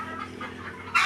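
Chickens cluck faintly nearby in a rural yard during feeding time, a few short soft calls over quiet background with one brighter sound at the end.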